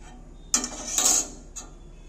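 A metal stand is set down into a pot of water for steaming eggs, giving a few short metallic clinks and scrapes, one louder clatter followed by a fainter tap.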